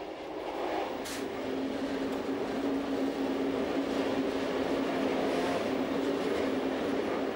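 A Swiss regional train on the Emmental railway rolls into Solothurn with a steady, loud rumble of wheels and carriages, a sustained mechanical hum and faint rail clatter throughout, heard from close by without any voices.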